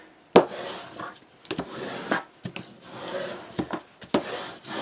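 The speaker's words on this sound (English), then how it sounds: "bone folder and just smoothen that out a bit." Paper for a two-page waterfall mini album being smoothed with a bone folder gives close, irregular scraping strokes. One sharp contact opens the series, followed by several shorter rubs.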